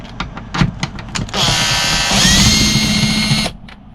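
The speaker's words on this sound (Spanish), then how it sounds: "Para llegar a todos los tornillos en los lugares así más rebuscados, armamos con un tubo y una junta cardánica" A power drill driving a socket extension through a universal joint to back out screws on a boat, a few short revving bursts followed by a sustained whining spin of about two seconds that then cuts off.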